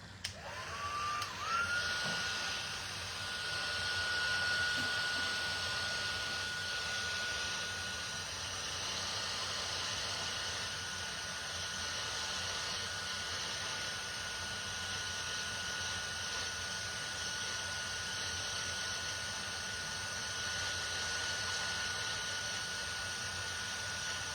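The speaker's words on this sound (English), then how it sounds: "Now I'm going to pull out an embossing gun." An embossing heat gun blowing steadily for a long stretch, a constant airy whoosh with a faint high whine, close and even throughout with no talking.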